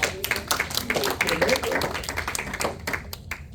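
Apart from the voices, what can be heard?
congregation applauding in church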